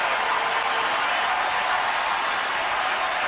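A ballpark crowd applauds and cheers Nolan Ryan's 4,000th career strikeout, a dense, steady wash of clapping that stays loud and even throughout.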